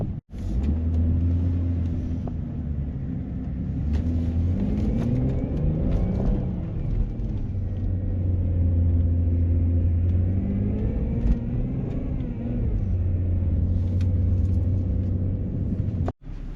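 A car revving and doing donuts in an empty car park, its engine rumbling low and steady with repeated rising and falling revs and whirring, close and continuous for over fifteen seconds.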